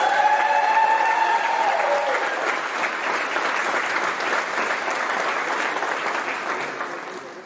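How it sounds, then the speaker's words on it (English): A ceremony crowd applauds this year's Hall of Fame inductees at a college athletics induction, sustained dense clapping that holds steady for several seconds before slowly thinning, with a voice speaking briefly at the start. "Please join me in a round of applause for this year's class of Hall of Fame inductees"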